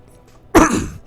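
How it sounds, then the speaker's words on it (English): A single short cough, close and fairly loud, from someone commentating a Dota 2 patch breakdown, bursting out abruptly and trailing off in under half a second with no talk around it. "Sorry, I have a bit of a cough there."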